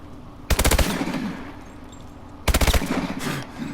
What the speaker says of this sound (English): I'll shoot 5 bursts into the guy